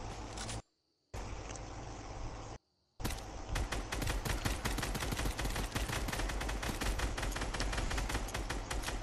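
Gunshots in Fortnite, a fast, loud, continuous volley of sharp cracks that starts after two brief drops to silence, with no voices over it.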